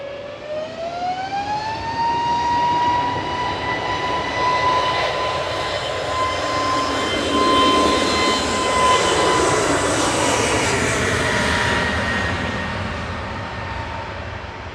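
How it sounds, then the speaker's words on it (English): An EasyJet jet airliner departs Manchester Airport for Corfu, its engines spooling up with a rising whine into a loud, sustained takeoff roar that stays close and strong before beginning to fade. "This EasyJet GUZHR heading off to Corfu with flight"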